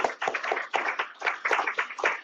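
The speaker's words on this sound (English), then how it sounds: "Let's give him a clap." A church congregation gives a short round of clapping: a few seconds of uneven claps from a modest crowd at moderate volume.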